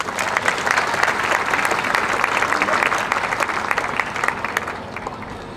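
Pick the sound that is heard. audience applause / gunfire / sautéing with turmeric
audience applause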